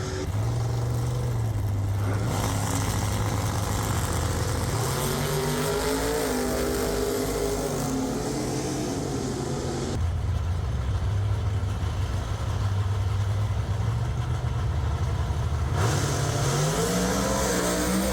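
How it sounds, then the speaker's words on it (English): A Pontiac muscle car launches hard at a Pontiac Nationals drag race with its front tires lifted. The loud engine roar climbs through repeated rising revs and gear changes, and the blare stays strong and close throughout. "Watch him carry the front tires in this bad boy."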